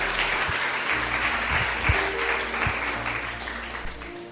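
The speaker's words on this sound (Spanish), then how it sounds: "¿Cuántos aplauden al Señor?" A church congregation applauds during an evangelical service, a steady wash of clapping with some murmur of voices, sustained and fairly loud throughout.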